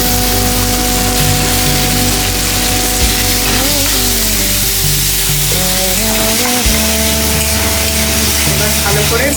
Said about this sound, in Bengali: এবার আমরা আদা, রসুন আর কাঁচা লঙ্কার পেস্টটা দিয়ে দেবো